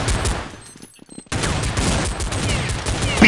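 Rapid, loud bursts of video game gunfire in Counter-Strike crackle almost continuously, with a brief lull near the middle before the heavy firing resumes.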